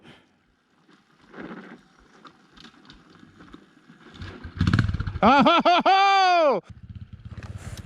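A 450 rally motorcycle bump-started on a steep rock climb: scuffling and sputtering build into a loud, rising engine catch that revs hard for over a second and then settles to a rough idle, with a brief exclamation early on.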